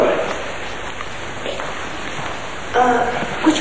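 Heavy rain falls outside in a steady, hissing wash that fills the whole scene, with a few slightly louder surges near the end.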